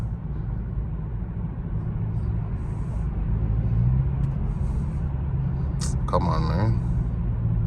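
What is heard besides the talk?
BMW 330i G20 accelerating in rush hour traffic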